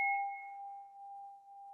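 A meditation bell struck once to close a practice, ringing out as a clear sustained tone that fades slowly over nearly two seconds, alone and in quiet.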